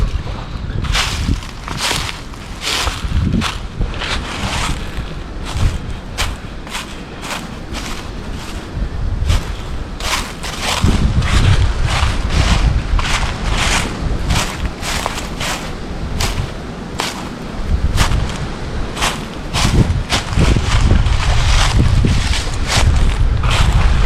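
Strong wind roars steadily across the microphone beside choppy water on a blustery day, gusting louder partway through, with no voices.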